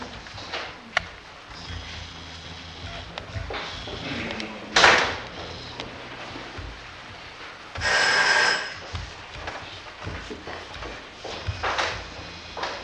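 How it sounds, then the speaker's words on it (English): A telephone rings during an amateur community-theatre stage performance, two bright bursts of electric ringing separated by a few seconds, mixed in with stage thumps, footsteps and a door-like knock in a quiet hall. "Phone's ringing."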